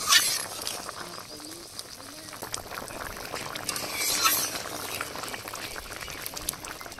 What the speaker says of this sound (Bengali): ভাজা মশলা দিয়ে 2 মিনিট ফুটিয়ে নামিয়ে নেব